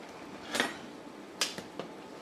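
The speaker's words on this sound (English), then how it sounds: "Give this a stir." A spoon clinks against a pot while cheese is stirred into mac and cheese, three or four sharp metallic taps spaced apart over a quiet background.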